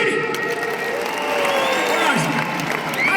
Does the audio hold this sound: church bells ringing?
no